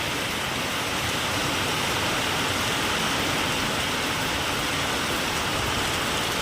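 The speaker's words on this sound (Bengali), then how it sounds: "দেখছেন কিভাবে বৃষ্টি হচ্ছে" Heavy rain pours steadily and loudly onto a waterlogged street, a dense, even hiss with no breaks and no voices.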